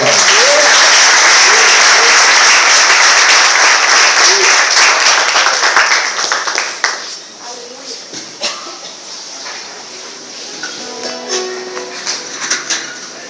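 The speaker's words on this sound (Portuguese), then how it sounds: "uma salva de palmas" Church congress congregation giving a loud, dense round of applause that holds for several seconds, then thins into scattered claps and murmuring voices.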